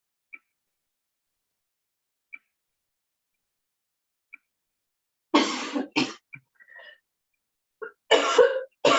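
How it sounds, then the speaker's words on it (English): Two harsh bursts of coughing, close and fairly loud, come after a few faint, evenly spaced ticks in an otherwise quiet room during a slow-flow stretching session. "I'm gonna have to go to the doctor about this cough."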